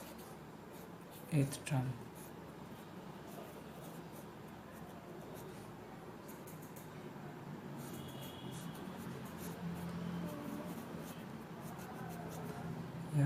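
A pen scratches out quartile calculations on paper, a soft continuous scratching up close, with a voice talking over it.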